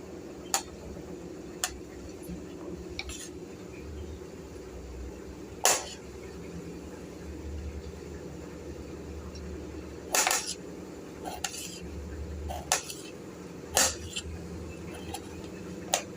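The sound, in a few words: chopping ivy gourd (tondli) with a knife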